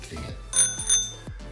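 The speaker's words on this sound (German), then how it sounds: "dann drückt doch auf die Klingel" A bright notification bell chime rings twice, with clear ringing tones over low background hum and a soft voice, used as a subscribe-reminder sound effect.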